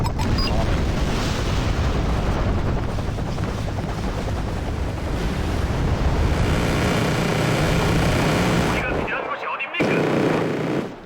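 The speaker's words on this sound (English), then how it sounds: "Okay, the gunfire is still a little loud." Dense, sustained gunfire and explosions from bombing in the video game Wargame: Red Dragon roar continuously at high volume, then cut out briefly near the end before resuming.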